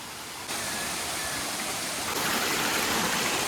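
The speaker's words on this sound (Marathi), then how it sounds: "आला धबधबा आपला" Steady, dense rushing water of a monsoon waterfall near farmland in Palghar, heard close by, continuous and loud, growing a little stronger toward the end.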